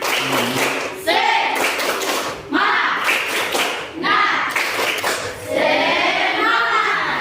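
A classroom of students claps in rhythmic bursts, loud and close, with short pauses between rounds and children's voices mixed in.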